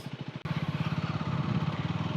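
Motorcycle engine pulsing steadily while riding a rough, broken ghat road near Trimbakeshwar in Maharashtra, the bike running hot; a brief drop, then a loud, close, continuous rhythmic thump.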